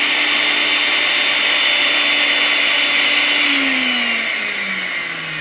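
A powerful stainless steel grinder machine with a locking lid and large blades runs at speed. It gives a loud, steady, close motor whine with a high mechanical buzz, and its pitch drops slightly near the end as it begins to slow.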